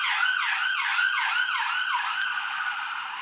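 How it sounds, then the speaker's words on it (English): Emergency vehicle sirens outside, a wailing, repeatedly rising and falling electronic tone cycling about twice a second, fairly loud and steady throughout, with no talk. "Bloody alarms, or whatever you call them, sirens."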